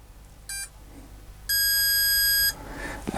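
A soldering station gives a short electronic beep followed by a longer, sustained high-pitched tone lasting about a second, loud and clear over a quiet background.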